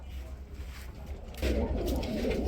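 Pigeons in a coop cooing, low soft coos that grow louder and denser halfway through, close by, with faint background murmur.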